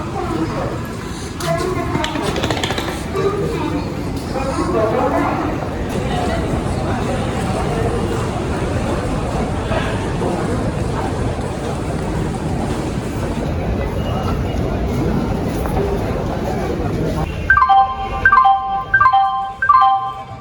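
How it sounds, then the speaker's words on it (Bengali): A train pulls into Benares Junction railway station, its wheels and carriages rumbling steadily with clattering motion and a busy crowd talking around it, before a station announcement chime rings out near the end. "তো এটা বেনারস জাংশন, আর এখানে নামবো। আর আমরা যাচ্ছি এখন 1 নম্বর প্ল্যাটফর্মে।"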